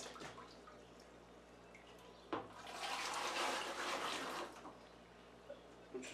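Water runs into a plastic fast fermenter being filled for a mango seltzer brew, a steady splashing flow of a few seconds alone after a sharp knock, with faint drips before and after.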